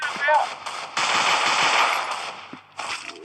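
Rapid automatic gunfire in the Free Fire mobile battle royale game, dense, loud bursts with brief gaps, while players talk over it.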